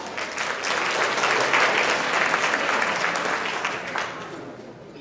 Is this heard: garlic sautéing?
no